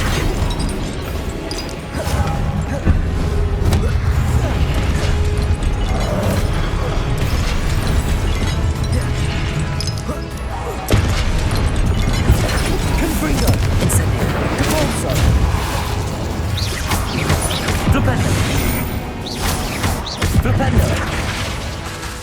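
Spells such as Confringo and Incendio cast in the Hogwarts Legacy game: a continuous barrage of booming blasts, crashes and fiery bursts, loud and dense throughout with a strong low rumble and no talk.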